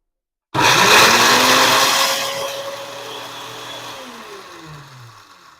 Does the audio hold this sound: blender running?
yes